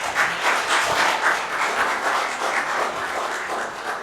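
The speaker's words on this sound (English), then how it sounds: "a round of applause" A school audience claps for a Year 11 music and drama class, a steady mid-loud round of applause filling the hall without pause.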